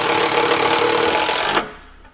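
A power tool with a 10 mm socket drives a self-tapping bolt into a vehicle base plate bracket, a loud continuous whirring buzz for about a second and a half before cutting off abruptly.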